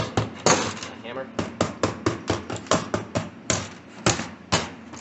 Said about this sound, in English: A hammer.